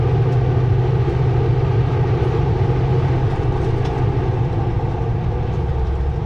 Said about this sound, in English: This one's a full coal train.